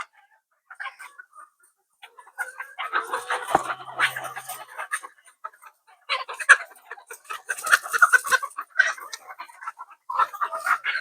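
Egg-laying hens cluck and squawk in irregular bursts, quiet at first and then busier, with several birds calling close by.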